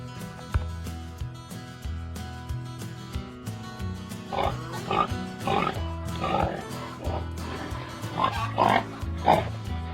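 Pigs on a farm oink and grunt in a run of short, close bursts over a steady bed of background music.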